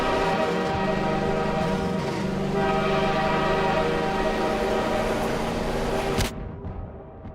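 A train in Garry's Mod rumbles past loudly with a sustained horn-like tone, steady for several seconds before cutting off abruptly into quieter background.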